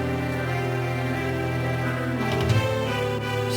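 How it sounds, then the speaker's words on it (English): Transcribed music played back through Windows built-in general MIDI sounds, a sustained synthetic chord-like texture with steady tones, moderately quiet and continuous without any speech. "with the general MIDI type sounds built into Windows"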